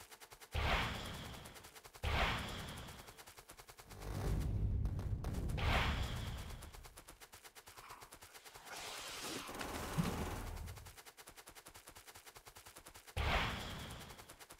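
Gunfire in the Factorio game: loud, heavy bursts of shooting and booms come in separate surges between quieter stretches of rapid crackling fire.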